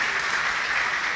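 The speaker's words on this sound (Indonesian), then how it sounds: "Tepuk tangan buat beliau." A crowd gathered for a religious lecture applauds a speaker, a steady, dense wash of clapping from many hands, loud and close, filling the short moment without a break and with no voices over it.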